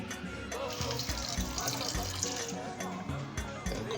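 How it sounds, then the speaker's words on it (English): Water pours into a cooking pot of Nigerian beans and corn porridge, a steady splashing fill lasting several seconds, close by, over faint background sound. "Then we add water"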